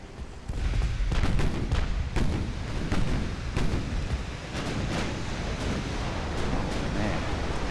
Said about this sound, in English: Oh man, ammo detonation.